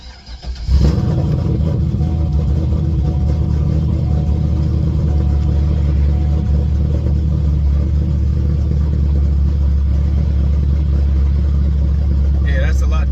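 A C5 Corvette engine, fresh from a clutch repair, cranks and fires, then runs with a loud, steady, deep rumble for several seconds. Light revving comes near the end.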